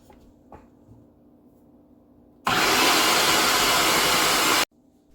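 A blender blends ice into hummus in a kitchen, a loud, dense roar lasting about two seconds that starts and stops abruptly, with quiet room noise and small knocks before and after.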